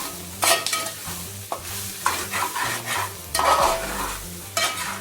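A spoon scrapes and stirs restaurant-style chicken fry in a pan, several irregular strokes over a soft steady sizzle, close and fairly loud with no talking.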